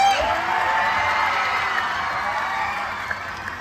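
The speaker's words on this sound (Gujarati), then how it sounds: "જોરદાર તાળી થઈ જાય" A large crowd at a Ganesh festival gathering in Vastral, Ahmedabad cheers and applauds in a steady, dense roar that holds for the whole stretch, with a few whoops rising near the end.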